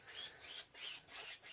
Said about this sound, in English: I'm going to take a dry 2-inch brush and just go over the whole thing